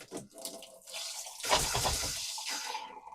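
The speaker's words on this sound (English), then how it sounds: "So we're going to run the the tub tap" Water runs from the bathtub tap in an RV being winterized, a steady broadband rush that swells loudly midway and keeps flowing, with faint splashing near the start.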